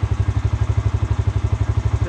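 A motorcycle engine chugs steadily at close range on a mountain road toward Naltar Valley in Hunza, a loud, even low-pitched thumping pulse running throughout with no talk.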